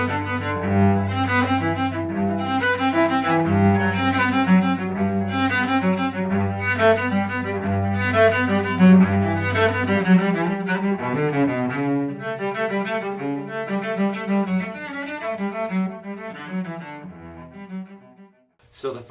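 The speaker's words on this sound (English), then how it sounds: "So here is the prelude from Bach's first unaccompanied" Solo cello playing the prelude from Bach's first unaccompanied cello suite, a steady flowing run of arpeggiated notes over a low repeated bass note, close and clear with no talking, trailing off at the end.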